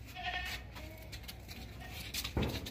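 A goat at a sacrificial animal market gives a single short, close bleat near the end, against a low, faint market background.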